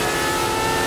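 A race car engine in the F1 2003 video game hums loud and steady at high revs, a dense buzzing drone heard alone over a split second.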